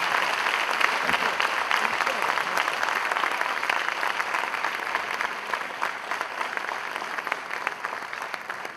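An audience at the Deenanath Mangeshkar Smruti Pratishtan Awards 2018 ceremony breaks into sustained, dense applause, a steady wash of clapping from a large crowd that continues throughout at even strength.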